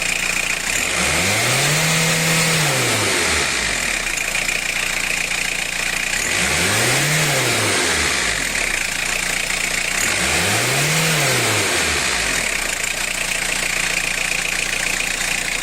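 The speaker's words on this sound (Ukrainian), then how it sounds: "Так, ще раз дивимося, як турбіна працює." The 1.9 TD diesel engine of a Fiat Scudo van with a working turbo revs three times from a steady idle, each rev rising and falling smoothly, heard up close and loud with a constant hiss.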